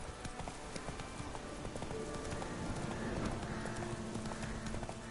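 Hooves of the horse Roach clip-clop at a steady galloping rhythm in the video game Witcher 3, with a continuous game soundscape around them.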